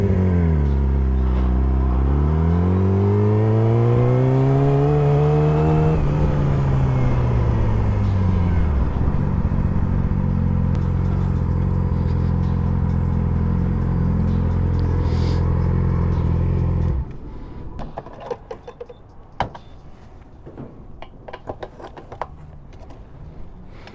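A car engine idles and revs through stop-and-go traffic, its pitch rising and falling with clear revving and acceleration for most of the stretch. Then it cuts to quieter clatter and rumble, with wind buffeting the microphone on a windy day.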